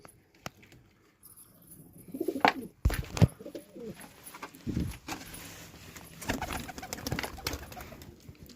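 Pigeons coo in low throaty bursts among rustling and handling noises, with a few sharp clicks and knocks close by throughout.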